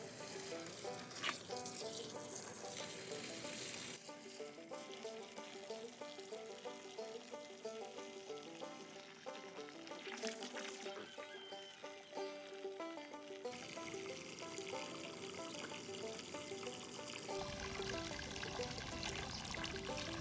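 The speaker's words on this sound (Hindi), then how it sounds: "अभी इसमें थोड़ा पानी डालेंगे।" Water poured steadily into a container while mixing Jivamrut, a farm fertiliser, making a continuous rushing, splashing flow that lasts throughout, fairly loud and close with shifts in intensity.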